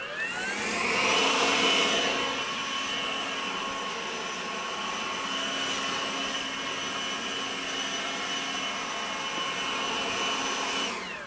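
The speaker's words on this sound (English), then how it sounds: "So this is where my blower comes into play. I just blow all of the leaves" A leaf blower pushes fallen leaves, including red bud leaves, into a corner beside overwintering container plants, giving a steady, loud airy roar that runs without a break for the whole stretch and has no talking over it.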